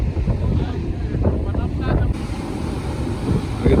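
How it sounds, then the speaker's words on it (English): Big ocean waves breaking and rushing in toward a river mouth at Mapalan, heard as a steady, broad roar mixed with heavy wind buffeting the microphone outdoors. "These big waves come in."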